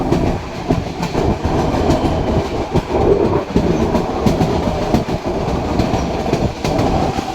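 Passenger train running through forest in the rain between Chalala and Junagadh, a loud continuous rumble with rhythmic clickety-clack of wheels over rail joints, heard close from inside the carriage.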